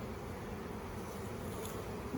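A honeybee swarm in a backyard hums as a low, steady buzz, soft and continuous, with no voices.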